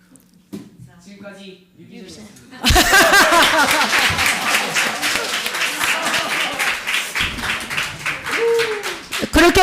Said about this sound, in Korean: 그렇게 박수 쳐가지고서는 안 돼